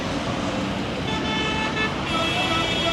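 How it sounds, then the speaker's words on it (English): Car horns toot repeatedly from taxis in dense city street traffic along Herbert Macaulay Way in Abuja, with steady roadway noise throughout and a faint voice mixed in. "A lot of honking going on the streets, mostly by taxis."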